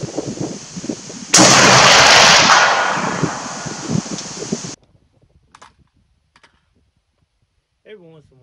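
A single loud SOCOM Mk 12 rifle shot cracks out nearby, followed by a long decaying rumble that cuts off abruptly, then near silence with faint clicks and a brief voice at the end.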